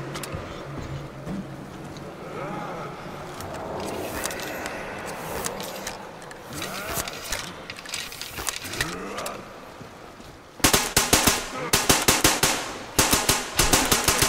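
A weak, unupgraded gun fires in Metro Exodus, starting with scattered shots and clanks, then breaking into dense rapid bursts of sharp cracks near the end, loud and close.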